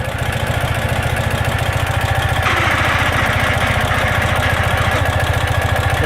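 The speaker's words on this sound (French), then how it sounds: "Voilà le bruit que j'entends lorsque j'actionne la poignée d'embrayage." A 2016 Ural motorcycle idles loud and near with a fast, even thumping pulse, a brighter mechanical noise joining midway as the clutch lever is pulled.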